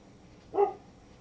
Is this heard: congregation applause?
no